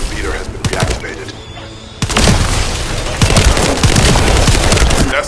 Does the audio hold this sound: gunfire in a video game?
yes